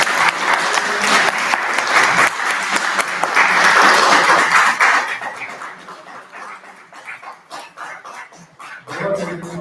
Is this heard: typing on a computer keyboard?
no